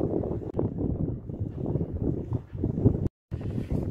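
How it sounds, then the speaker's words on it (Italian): Strong monsoon wind buffets a microphone on the deck of a charter yacht off Thailand, a loud, continuous low rumble with gusty surges and one brief dropout. "C'è un bel vento qua sopra."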